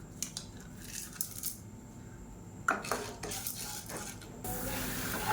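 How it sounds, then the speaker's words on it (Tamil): Chana dal frying in oil in a pan for chutney makes a faint, steady sizzle beneath light metallic clinks and scrapes of a spoon against the pan, with no voices. "கடலைப்பருப்பு நல்லா பொரியுது"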